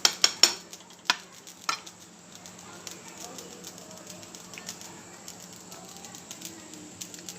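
A spoon stirs cooking bean pods in a pan, a few sharp clanks against the metal at the start followed by soft scraping and faint sizzling, close and fairly quiet.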